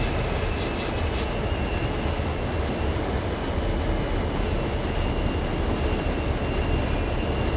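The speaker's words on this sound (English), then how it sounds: "we'll just go with the old freight train" An old freight train running in the video game Train Sim World 2, a loud continuous rumble of rolling wagons with faint wheel squeal, steady and close throughout.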